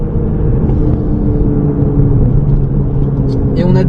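A Ferrari 296 GTB on the Trappes race circuit during a driving course, downshifting: loud, continuous engine drone from inside the car with a brief rise in pitch near the end, with voices talking over it.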